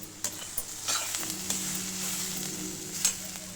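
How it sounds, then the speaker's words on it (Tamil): Tomato and onion sautéing in a pan, with a steady close sizzle and a few sharp spatula knocks and scrapes at the start and near the end. "இப்போ பாருங்கள் நல்லா தக்காளி வதங்கிட்டு"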